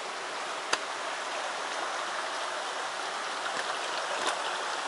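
Water flowing at the headwaters of the Nishava river, a steady close rushing and gurgling stream with a couple of faint clicks, no voices.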